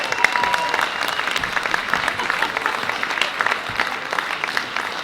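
A political audience at an SNP candidate adoption evening in Argyll & Bute applauds in a sustained, dense burst of many hands clapping, steady and fairly loud throughout.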